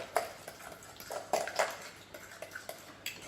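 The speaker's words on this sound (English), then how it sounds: "whisking again" A whisk clicks and taps against a bowl while mixing a mini quiche batter, a quick irregular series of close, light scraping and clinking strokes with no voices.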